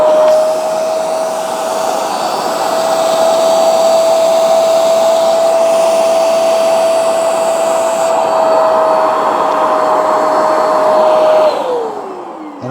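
Hoover carpet spot cleaner, Spotless FH11300 or CleanState Plus FH1405, running for its hose clean cycle: a loud, steady motor whine with an even whirring tone that holds for about eleven seconds, then winds down.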